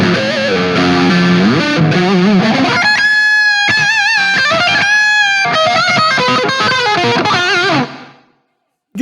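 An electric guitar through a Friedman Runt 50 amp plays heavily distorted chords and lead lines, loud and thick for several seconds before ringing out into silence.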